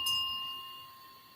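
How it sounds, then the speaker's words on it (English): A single bell strike rings out at the start, its clear tones sustaining and slowly fading with no voices present. "So let's do the bell."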